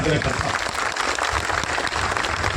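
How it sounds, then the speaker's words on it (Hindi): Crowd at an outdoor political rally claps together to welcome party officials, a dense, continuous wash of applause mixed with voices and loudspeaker noise. "सभी पदाधिकारियों का एक साथ ताली बजा के स्वागत कर दीजिए।"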